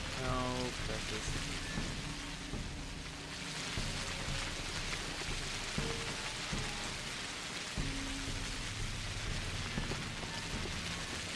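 Steady rain in the video game Pathologic, a constant hiss of drops on surfaces running throughout, with brief tonal game sounds and a few low rumbles layered on top.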